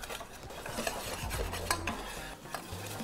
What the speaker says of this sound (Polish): Muszę ją delikatnie uprażyć w suchym garnku.